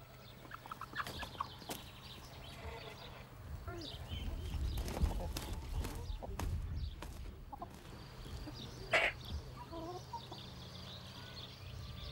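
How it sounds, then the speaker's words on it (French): On a farmyard, a rooster crows and hens cluck among scattered bird calls, moderately close, while a narrator's voice talks over them. "Le coq pousse son cri pour montrer qu'il est le plus fort sur son territoire"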